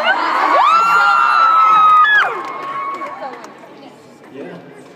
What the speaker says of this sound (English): I love the way they all cheer because they think we're good at dancing.